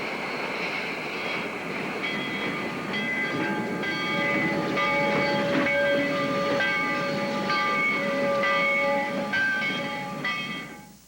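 A steam locomotive hauling a freight train rolls steadily past at moderate distance, wheels rumbling and clattering on the rails while a horn sounds in sustained tones before fading.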